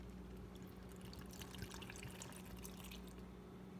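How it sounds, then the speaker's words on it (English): Evaporated milk poured from a can into a blender for a Dominican banana smoothie, a faint, steady liquid pour with light trickling and dripping that runs throughout with no talk. "You're gonna wanna pour about half the can in there."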